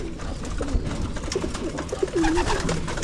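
A pigeon coos softly several times, low rolling calls repeating at an unhurried pace against faint background noise.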